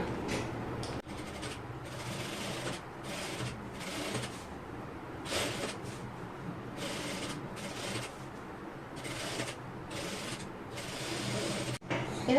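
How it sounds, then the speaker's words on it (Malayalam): Sewing machine stitching a cross piece onto a garment neckline, a continuous close mechanical whir broken by short pauses between runs, with no talk. "കാലിഞ്ച് വിട്ടിട്ട് ഇതൊന്ന് സ്റ്റിച്ച് ചെയ്തെടുക്കണം"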